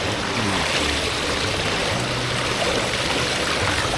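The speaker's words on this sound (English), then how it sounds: "So here's a little waterfall. By the bridge." Water runs over a little waterfall by a bridge in Maui pools, a steady near burble and trickle with a fairly soft, continuous wash and no talking.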